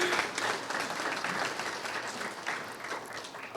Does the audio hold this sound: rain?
no